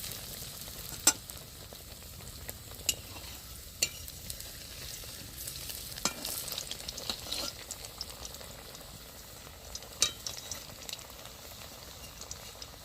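Balls of banana flower dopiaja fry in a pan of oil, a soft bubbling sizzle broken by sharp clacks of a utensil against the pan every few seconds, close but fairly quiet, with no talking.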